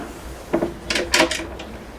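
A drawer in the galley of a 2015 Princess 52 yacht slides open or shut, giving a few short wooden knocks and rattles, close and moderately loud, with no talking.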